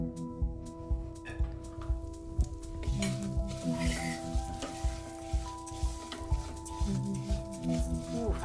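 Garlic and onion sizzling in a pan, a continuous close frying hiss with stirring scrapes and light clinks, fairly quiet.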